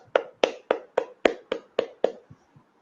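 Claps at a hackathon final ceremony ring out as eight crisp, evenly spaced strikes, then fade into two softer taps, sounding sparse and close rather than a dense crowd roar.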